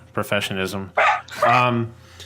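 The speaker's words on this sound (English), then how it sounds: "You fucking barking dog." A dog barks several times in quick succession, sharp and close, followed by a couple of longer, harsher barks.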